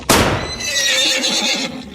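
A horse whinnies loudly and close, a single drawn-out neigh with a quivering, descending tail lasting under two seconds.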